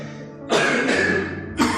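Two harsh, rasping coughs close by, the first long and drawn out, the second starting just as it ends.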